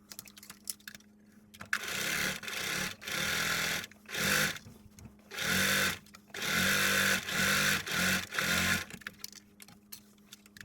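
A sewing machine stitches a fabric seam for a headband at a 1 centimeter seam allowance, running in several steady bursts of a few seconds each with brief pauses between them. The machine is close and no one speaks.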